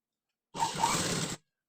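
A sewing machine stitching buttons onto fabric, one short burst of mechanical whirring and clatter lasting under a second, close and moderately loud, with silence before and after.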